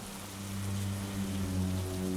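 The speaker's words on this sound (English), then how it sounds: "Do you think this rain will stop soon?" Rain falling steadily, a soft continuous hiss of drops on surfaces with a low steady hum underneath, even in level throughout.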